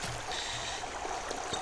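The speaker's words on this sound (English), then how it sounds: "I shall block off this water stream. I won't block it off. It's a nice water feature for my little house." Flowing water stream in the Minecraft video game, a steady, broadband rushing trickle that runs continuously at a moderate level with no talking.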